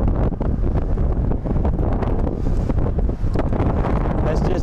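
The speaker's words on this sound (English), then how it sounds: "the winds are still howling at about 25 to 30 miles per hour right in my face" A strong headwind of about 25 to 30 mph roars against a cyclist riding a rural road toward Plainview. The buffeting is loud and constant, filling the whole stretch.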